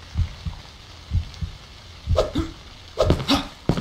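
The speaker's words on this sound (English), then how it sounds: "I hear a heartbeat." A heartbeat in the horror video game Cry of Fear, slow paired low thumps repeating at a steady pace, faint and muffled, mixed with other dull game sounds.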